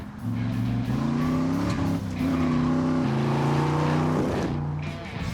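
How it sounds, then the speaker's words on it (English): A loud 1968 Corvette with a big 427, 435-horsepower engine and outside exhaust revs up and down several times, its exhaust roaring with rising and falling pitch, close by. "It's got the outside exhaust really nice and loud."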